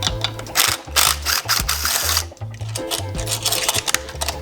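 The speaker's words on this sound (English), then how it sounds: "So at this point, we should be able to zip the 4 bolts." A ratchet zips out the bolts of a Honda GX630 engine's carburetor, fast clicking bursts repeating in close, loud runs with brief pauses between them.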